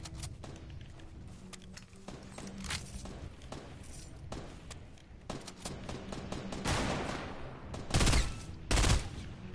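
Rapid bursts of video game gunfire crackle throughout, dense and continuous with louder shots near the end, during an online shooter match.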